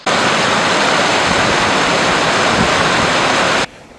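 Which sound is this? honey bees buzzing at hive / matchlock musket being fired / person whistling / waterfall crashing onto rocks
waterfall crashing onto rocks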